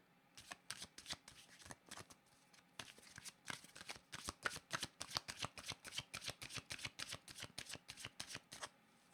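Tarot cards being shuffled by hand, a rapid series of close, crisp riffling flutters and soft slaps in quick bursts with a short pause, quiet and alone without talk.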